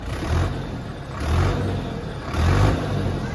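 An Indo Farm 3055 DI 60 HP tractor engine runs steadily close by, its low rumble swelling and easing in a few slow waves.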